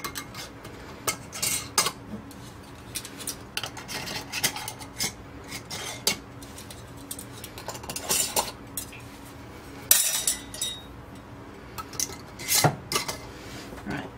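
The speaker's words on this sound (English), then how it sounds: "We're going to put the rings on fingertip tight." Metal canning rings screwed fingertip tight onto hot glass jars of sugar-free scrap apple jelly, giving repeated close scraping clinks and metallic rattles in irregular bursts with no talking.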